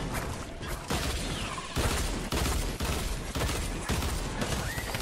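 Gunfire in the video game Fortnite, dense sustained bursts of shots and booms running almost without pause, loud and close with no speech over it.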